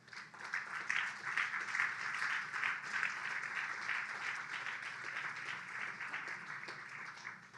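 A church congregation applauds during a Spanish-language sermon, sustained dense clapping that holds steady and fairly loud for several seconds, with no voices over it.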